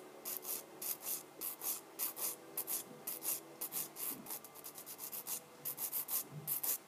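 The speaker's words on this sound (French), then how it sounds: "je prends plutôt mon lime banane" A fingernail being filed gently with a curved banana nail file while removing semi-permanent polish: soft, close rasping strokes in a steady back-and-forth rhythm, quiet and alone.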